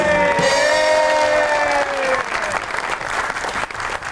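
Studio audience on a comedy talk show applauds the arrival of a guest, a loud, dense wash of clapping under a voice and bright musical tones that fade, the crowd noise continuing strongly.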